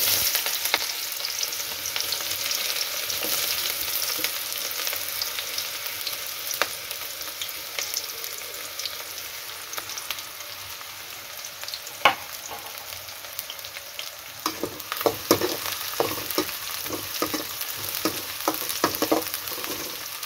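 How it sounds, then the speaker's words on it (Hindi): Onions fry slowly in a pan with a gentle, continuous sizzle, fairly quiet and close, while scattered clicks and scrapes of stirring grow more frequent toward the end. "प्याज को इस तरह से धीरे धीरे फ्राई करना है दोस्तों।"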